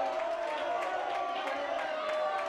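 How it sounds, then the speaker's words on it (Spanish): A football crowd at a UD San Pedro versus Alhaurín de la Torre CF match jeers a departing player, a steady, distant wall of massed voices that holds without pause for a few seconds. "con el abucheo del público."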